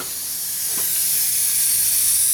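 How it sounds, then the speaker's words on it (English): A steady, continuous hiss of air leaking from a valve, loud and unbroken throughout, with no voices. "you can hear it leaking there. It just starts leaking right away out of both places."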